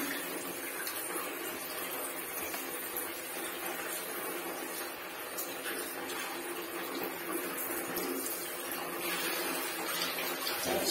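Running water pours steadily during the bath of a pregnant pinscher dog in a bathroom, a continuous close splashing wash lasting the whole stretch with no talking over it.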